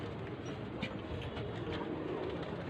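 Egyptian ghazar pigeons cooing softly in a loft, low murmuring coos over a steady dull background rumble, no talk.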